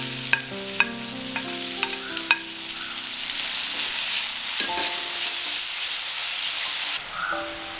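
Onions and tomato sizzle steadily in a frying pan for chana masala, with scraping spoon strokes and clinks early on before the frying hiss settles into a continuous, close crackle.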